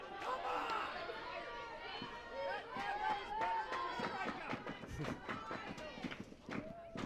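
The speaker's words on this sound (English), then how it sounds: "Hear a little fan conversation about the strike zone." Fans chat in the stands at a college softball game between Harvard and Brown, several nearby voices overlapping in casual conversation amid light crowd noise.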